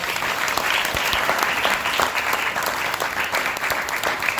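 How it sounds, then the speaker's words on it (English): Sustained audience applause fills a spiritual discourse hall, dense and steady with no voices over it, holding at an even loudness throughout. "I want you to give Panditji, Swamiji, a round of applause."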